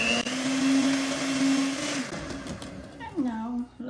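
An electric mixer beats cake batter for a marble bundt cake; a steady motor whine runs loud for about two seconds, then eases off, with a voice briefly speaking near the end.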